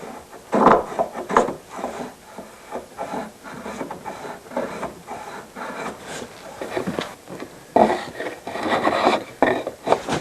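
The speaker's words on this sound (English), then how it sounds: "To make a cut, just place the tool using the flat surface." A luthier's marking gauge scores a line across a guitar top, giving soft, close, repeated scraping and rubbing strokes of uneven length.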